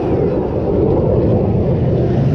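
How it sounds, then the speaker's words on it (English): Steady, broad low rumble of a jet passing overhead, sustained and fairly loud throughout with no voices. "Little jet noise."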